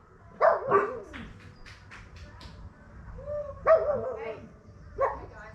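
A dog gives a few short yips and whimpering barks in a quiet indoor room, in three separate bursts with pauses between.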